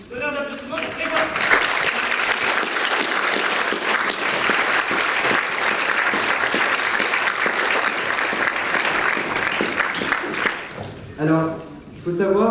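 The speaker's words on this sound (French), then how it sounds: "Donnez un applaudissement pour Grégoire." A loud, dense round of applause from a crowd at a science short-film screening evening, sustained for about ten seconds with voices audible briefly at the start and again as the clapping dies away.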